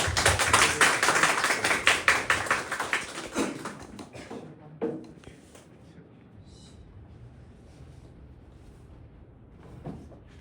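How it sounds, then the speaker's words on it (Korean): A burst of loud clapping from a crowd that fades out after a few seconds, followed by quiet room tone with faint sounds. "우리 큰 박수와 함성으로 환영했으면 좋겠습니다"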